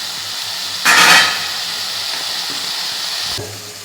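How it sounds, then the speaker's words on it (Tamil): Tomatoes sautéing in a pan over medium heat give a steady close sizzling hiss that swells briefly near the start, then holds even and unbroken with no voices. "தக்காளி இதெல்லாம் மீடியமில் வச்சு நல்லா வதக்கி நல்லா வதங்குற வரைக்கும் விடுவாங்க"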